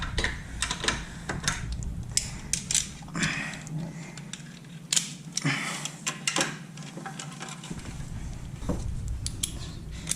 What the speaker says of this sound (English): We're going to tighten this down.